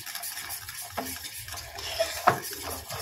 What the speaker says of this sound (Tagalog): Haluin lang natin hanggang matunaw ang ating cornstarch.